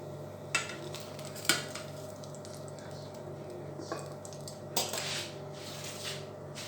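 Sausage, boiled potato, parsnips and turnips are dished straight off the stovetop onto a plate, with a few sharp clinks of utensils on pans and crockery over a low steady background hum, no talking.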